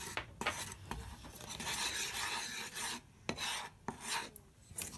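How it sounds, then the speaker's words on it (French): A homemade home-fragrance mixture stirred by hand, producing a continuous close rasping, scraping rub with rhythmic strokes and brief pauses, no voices. "Je vais mélanger."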